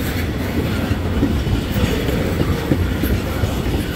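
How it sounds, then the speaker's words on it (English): A Wheeling & Lake Erie freight train carrying liquefied petroleum rolls past at Arcade Road, Collins, Ohio, steadily with a low rumbling roar and rhythmic clickety-clack of wheels on rails, continuous and fairly loud. "And that train's longer than I thought."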